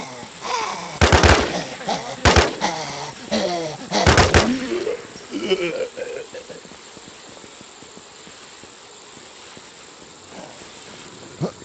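Video game gunfire from Survivor Infestation cracks out in several sharp, loud bursts early on, mixed with voices and engine-like rumble, then fades into quieter background noise.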